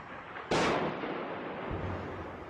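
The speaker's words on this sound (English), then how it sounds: "Activists filmed shells falling and claimed soldiers were shooting." An artillery shell lands in Homs, Syria: a single sharp, loud blast that rolls off into a long rumbling decay over steady background noise.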